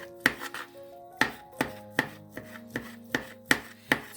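A knife chops rapidly and rhythmically against a cutting board, cutting thin noodle-like strips, sharp close taps in quick succession with no talking.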